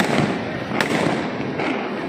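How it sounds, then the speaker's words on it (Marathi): Diwali firecrackers burst in Airoli, a dense, continuous crackling roar broken by a sharp nearby bang, with faint talk in the mix. "फटाक्या बघा काय फुटतायत तगडे"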